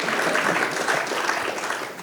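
Applause from a conference audience at an African real estate investment trust event, a steady wash of many hands clapping that fades slightly toward the end.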